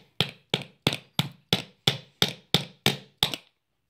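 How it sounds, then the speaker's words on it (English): Ten sharp, evenly spaced hammer taps strike an RC X-maxx fifth-scale tire adapter, each a crisp close metallic knock that quickly decays, then silence. "a couple taps with a hammer"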